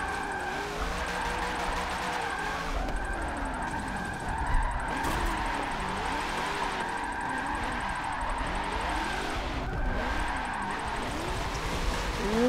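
Racing cars in Forza Motorsport 7 drifting in tandem, played with a Logitech G920 wheel: engines whine and swoop as revs rise and fall, with continuous tire squeal throughout.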